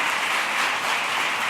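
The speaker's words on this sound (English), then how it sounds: "Give yourselves a round of applause" A large audience claps steadily at a speech event, a dense, even wash of applause sustained throughout without any talking.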